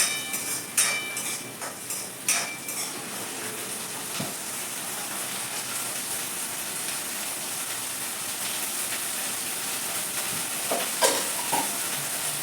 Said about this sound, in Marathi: वटाणे तेल टाकून घेतलं आणि आपले वटाणे भाजून घेते